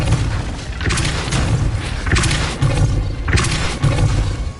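Depulso force spell cast in Hogwarts Legacy, heard as several loud booming thuds at a steady pace with a roaring rumble beneath, each a heavy forceful blast.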